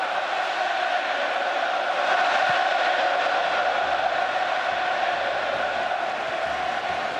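A packed stadium crowd at a 2007 Rugby World Cup match between France and England roars continuously after England's early try, a broad sustained cheer with no breaks.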